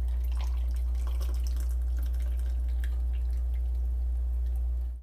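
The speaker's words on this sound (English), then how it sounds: "And now it's time to pour in the juices." Juices poured into a pot with a cinnamon stick for a non-alcoholic drink: a continuous liquid trickle and splash over a loud, steady low hum.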